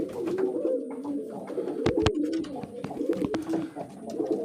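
Colourful pet pigeons, including grown-up young birds, coo steadily in a low, rolling murmur that carries on without a break, with a few soft flutters and clicks close by.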